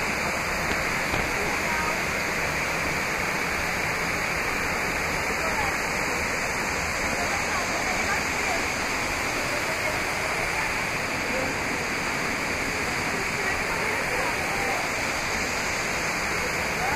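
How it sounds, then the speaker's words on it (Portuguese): A waterfall near Rio de Janeiro roars in a constant, dense rush of water that holds steady throughout without a break. "eu agora vou dar uma mostradinha pra vocês aqui, ó, de cachoeira"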